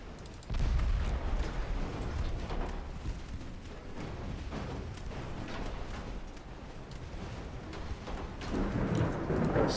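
Naval gunfire in Ultimate Admiral Dreadnoughts, ships firing on their own vessels: deep rumbling booms and rolling blasts with a continuous roar, heavy low thuds repeating throughout, no voices.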